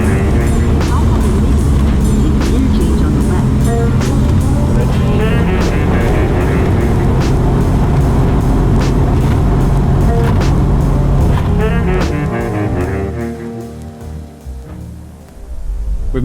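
A car drives along with a loud, steady engine and road roar that fades down near the end.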